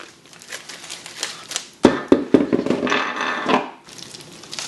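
A packaged Miami Blue wheel being unwrapped by hand, close crinkling and tearing of packaging in bursts, with a few sharp knocks midway and rustling that pauses and resumes.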